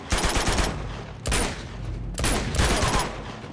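Rapid bursts of AK rifle fire in Uncharted 2, three loud automatic volleys with brief gaps between them and no talking over them.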